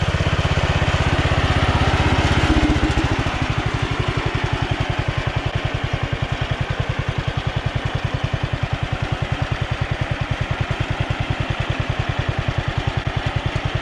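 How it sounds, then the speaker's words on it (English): An antique Sears tractor engine chugs steadily with a fast, even putter, loud and close, slightly revving at first then settling into a regular idle. "But sweet looking tractor, and it's running good."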